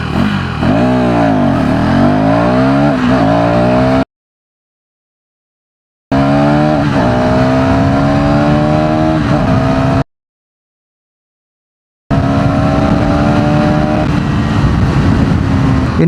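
A 2026 KTM Duke 390 (349cc) motorcycle accelerates hard through the gears in three loud, close bursts, its engine note rising and falling with each shift and broken by gaps of silence.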